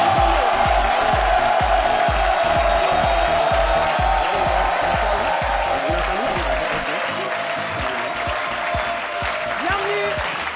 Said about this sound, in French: je pense qu'à cause des applaudissements